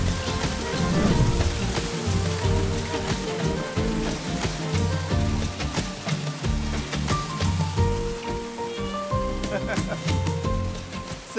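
Winter rain falling in Hatta, a dense continuous patter of drops on surfaces with scattered sharper hits, fairly close and steady for the whole stretch, with people talking underneath it.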